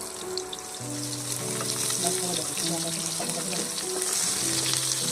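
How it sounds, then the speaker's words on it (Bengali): Pointed gourd (potol) pieces fry in a pan of oil, a continuous close hiss and crackle with background music tones playing underneath. "লাল লাল করে একটু ভাজতে হবে পটলগুলো"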